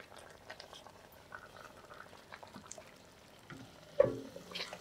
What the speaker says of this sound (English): This is 1 liter of water. And I'll allow this to cook.